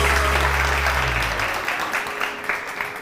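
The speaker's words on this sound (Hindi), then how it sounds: "आपके लिए तालियां बजाइए" A TV studio audience on a morning show breaks into loud, dense applause that fills the space and slowly thins out, while a low hum underneath stops partway through.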